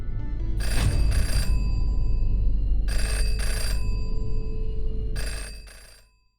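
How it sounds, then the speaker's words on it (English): A telephone rings in the video game Jenny LeClue: Detectivu, giving three bursts of an old-style electric bell, each a pair of quick rattling trills, loud and close over a steady low hum that fades at the end. "Whose phone is that?"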